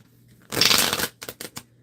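Tarot deck being shuffled close up, a dense riffling burst followed by a few quick taps and snaps as the cards settle.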